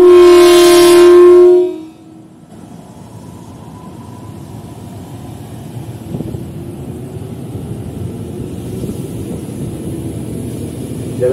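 A loud horn blast, then the low steady rumble of an electric commuter train pulling away from Manggarai station, Jakarta, and gradually gaining speed.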